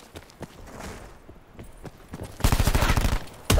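Gunfight in Call of Duty: Blackout, scattered single shots and clicks early on, then a loud, rapid burst of gunfire near the end, shotgun blasts among the shooting.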